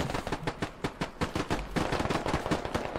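Rapid automatic machine gun fire in the video game Squad, set in Fallujah during a sandstorm in a 50 vs 50 match, crackling in loud, dense bursts with overlapping shots throughout, near and continuous.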